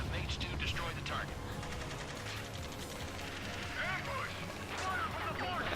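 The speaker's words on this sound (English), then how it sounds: "where am I being shot from?" In Ace Combat 7, aircraft gunfire crackles in rapid rattling bursts amid engine noise and battle effects, with a voice talking over the action.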